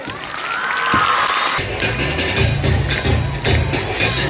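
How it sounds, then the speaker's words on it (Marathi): A school cultural gathering erupts with students cheering and shouting over loud, sustained applause from a crowd, the noise swelling and holding strong throughout. "बरीच अशी बहारदार विद्यार्थ्यांचा जल्लोष, जोरदार टाळ्यांचा कडकडाट"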